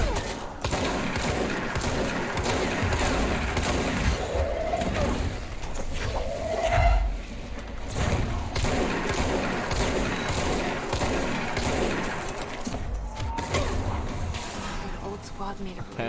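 Gunfire in the action video game Control comes in repeated bursts and thuds over a busy game soundscape, with a voice talking at times.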